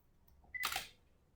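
A single crisp shutter release from a Nikon SLR fitted with a Nikkor 24-70mm f/2.8 VR lens, a close mechanical click-clack in a quiet room after a faint electronic beep.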